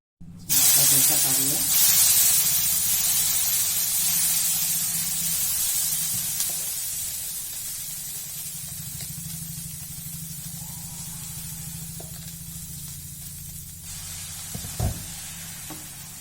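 Dosa batter sizzles on a hot pan with a little oil, a steady bright hiss starting sharply and slowly fading over sixteen seconds, with a low hum underneath and one brief knock near the end.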